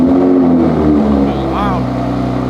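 Toyota Supra MK5 fitted with an AWE Resonated Touring exhaust, a loud steady engine drone with a brief rising rev near the middle, close by, with people talking over it.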